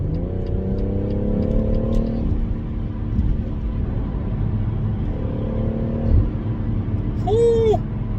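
A BMW M140i with a double resonator delete accelerating, heard from inside as a loud, steady engine rumble whose rising harmonic sweeps come and go. A faint squeak sounds near the end.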